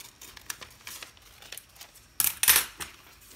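An oversized pair of scissors cuts paper while making a folded artist book: a couple of sharp, close, crisp snipping and crinkling bursts near the end, after quieter faint rustling.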